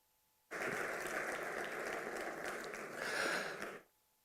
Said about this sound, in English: our keynote speaker deserves a bigger and better round of applause